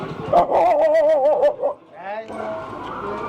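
Dogs barking and whimpering at a roadside tea stop on the Tamil Nadu–Kerala border, several yelps and barks close by in a short burst, with people talking over them.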